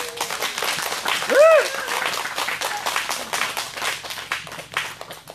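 Audience applause at an outdoor anti-THAAD Wednesday protest rally in Soseong-ri, a dense, steady patter of clapping lasting several seconds, with a voice rising briefly over it.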